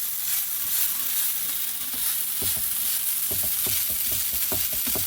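Spatula scraping, stirring and mashing a dal mixture as it fries over low heat in a pan, with steady sizzling and a run of short scrapes and taps that cluster more densely toward the end.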